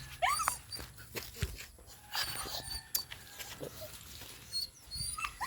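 Pet dogs wait eagerly for their owner arriving home from work, giving high whimpers and short yips that come in bursts, fairly close and moderately loud, with footsteps and small movement noises between.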